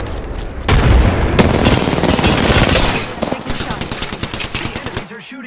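Loud, rapid automatic weapon fire in the Apex Legends battle royale game, with sustained bursts, heavy booming hits and a trailing scatter of shots, while in-game character voices speak.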